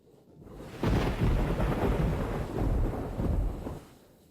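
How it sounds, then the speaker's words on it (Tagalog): Heavy rain pouring outside with deep rolling thunder: a loud, sustained rumble that swells in and out over a steady wash of rain, with no voices. "habang daladala si Singshin, ganito rin kalakas ang ulan sa labas."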